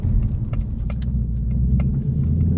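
A car driven on a short loop at the Road America circuit, its engine giving a steady low rumble from inside the cabin with scattered small clicks and rattles on top.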